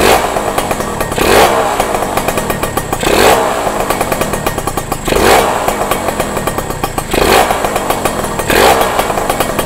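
A Kawasaki RR motorcycle engine, just fitted with a new block, idles with a rapid rattling beat and is blipped about every two seconds, each rev rising sharply and dropping straight back, loud and close.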